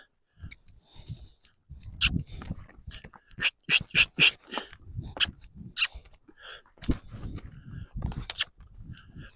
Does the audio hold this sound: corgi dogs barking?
yes